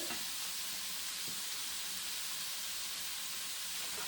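Bok choy and tofu sizzle steadily in a hot stir-fry pan, a dense continuous frying hiss, close and loud throughout with no talking.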